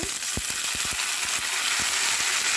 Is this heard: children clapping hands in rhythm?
no